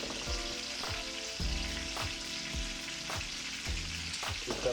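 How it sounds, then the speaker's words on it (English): Arborio rice, two cups, goes into a hot pan for risotto, setting off a steady sizzle and frying crackle with repeated scraping strokes as it is stirred, close and continuous. "So we're going to add our arborio now."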